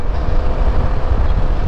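A Suzuki Burgman Street scooter engine runs quietly, a soft, steady low rumble mixed with some wind buffeting, close to the microphone and with no voices.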